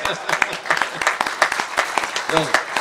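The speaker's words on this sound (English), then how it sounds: "Applause, guys." A small group claps briskly and unevenly for a few seconds, the applause close and fairly loud, with a voice briefly mixed in.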